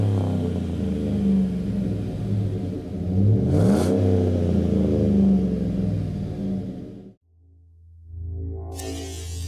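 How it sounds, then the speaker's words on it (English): A car fitted with a new performance muffler revs hard, its deep, throaty exhaust drone rising and falling through several loud pulls, then cutting off abruptly before idling back to a low rumble. "With our new performance muffler installed, we're ready to go out and make some noise."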